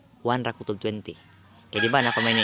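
A rooster crows loudly and close by, its drawn-out call cutting in near the end of a short stretch of speech, with a voice talking over the first part.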